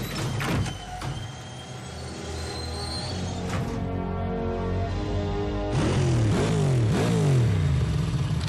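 A motorcycle engine in the Transformers Prime cartoon, loud and close, with mechanical clatter and rising and falling revs that swell toward the end, with no talking.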